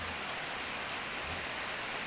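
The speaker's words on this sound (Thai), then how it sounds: "ฝนตกแล้ว" Steady, dense rain falls during an afternoon downpour, a continuous wash of hiss and patter with no breaks or voices.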